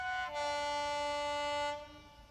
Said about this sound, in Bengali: অনেকটা লেট করে ঢুকাচ্ছে কাঞ্চনকন্যা এক্সপ্রেস।